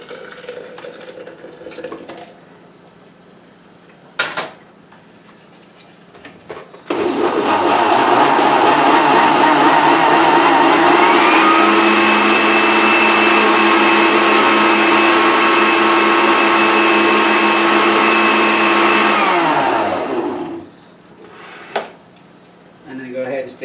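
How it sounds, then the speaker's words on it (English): A blender whirs loudly and steadily for about fourteen seconds, blending a hot glaze for leftover roast pork, with the motor pitch rising partway through before it winds down; quieter kitchen handling comes before and after. "So we're going to go ahead and blend up our glaze."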